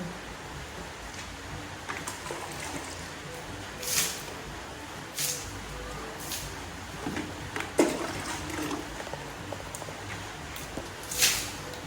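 Water splashes faintly as it is poured onto a dusty floor while cleaning an upstairs room, with a few soft spills and trickles against a quiet background.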